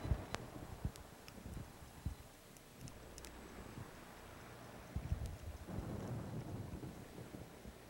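Steady rain hiss heard while driving in Oklahoma, with rumbling low thunder and a few sharp cracks, fairly loud and continuous with no voices.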